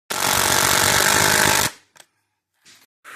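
A power driver sinks 3-inch screws into plywood on a wooden moto ramp, one long steady whir lasting about a second and a half, close and loud, followed by a few brief faint knocks.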